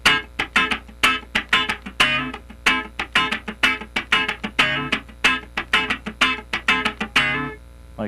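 Electric guitar plays a funk rhythm pattern in D with a straight feel, a loud, busy stream of sharp muted chord scratches and stabs in a tight repeating one-bar groove, close and with no voice.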